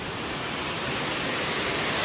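Steady, broadband roar of the Cachoeira do Roncador waterfall in a rural area, a continuous even wash of falling water heard up close with no other sounds.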